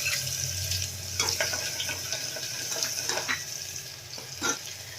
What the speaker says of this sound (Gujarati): આપણે 1 ચમચી લસણની પેસ્ટ છે, ક્રશ કરેલું લસણ એ એડ કરશું.